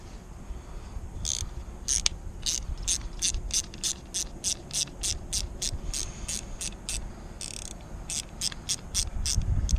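A ratchet fitted with a 10mm socket loosens a nut on an Audi A8 D3 suspension position sensor, giving rapid, close pawl clicks in short, regular bursts over a low background hum.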